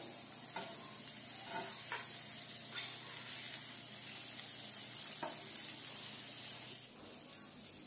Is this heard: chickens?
no